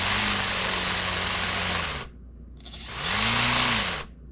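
A Hobbyking paramotor V2 electric motor whirs loudly under throttle for about two seconds, cuts out, then spins back up to a steady whine with a rising and falling pitch before stopping again.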